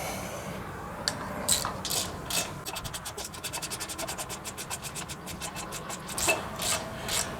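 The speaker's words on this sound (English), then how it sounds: "We're going to grab our handy dandy ratchet." A hand ratchet working loose the foot pin of a trailer jack, giving off a run of quick, evenly spaced clicks in the middle of the clip, with scraping and rubbing noises before and after.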